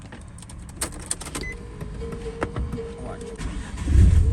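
A turbocharged Nissan 350Z engine cranks with a few clicks and whirs, then catches in a brief low rumble at the very end. Someone speaks briefly over it.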